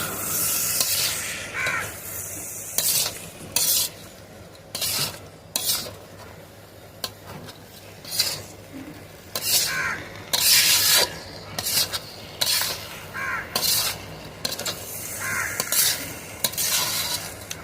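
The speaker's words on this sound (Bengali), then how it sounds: "চাল আর ডালটা দিয়ে মাংসের সাথে ভালো করে কষিয়ে নেব।" Rice and lentils fry with chicken in a pan, a soft sizzle broken by repeated scraping bursts as a spoon stirs and rubs the pot at an irregular pace.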